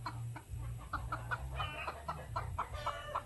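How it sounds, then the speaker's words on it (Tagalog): A chicken clucks repeatedly in a backyard, a run of short close clucks in an uneven rhythm over a low steady hum. "Ito yung manok."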